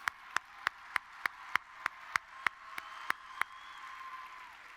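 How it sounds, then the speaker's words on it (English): A large crowd at the National FFA Convention claps in unison, a dozen sharp, evenly spaced beats ringing through the arena before fading into a softer murmur. "Let's give Aiden another round of applause."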